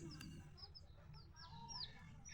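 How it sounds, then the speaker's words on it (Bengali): A crested hen, a new farmyard bird with a tuft of feathers on its head, clucks in a few short, faint calls over a low background hum. "এই মুরগিটা আমাদের ঝুঁটি দেওয়া মুরগি, ওর মাথায় ঝুঁটি আছে।"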